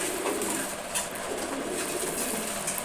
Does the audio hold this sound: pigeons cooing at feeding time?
yes